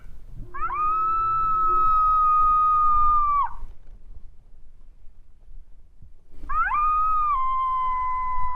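Electronic coyote caller plays female invitation howls in the Badlands during breeding season: two long, clear, rising-then-steady wavering howls separated by a quiet pause, loud and close.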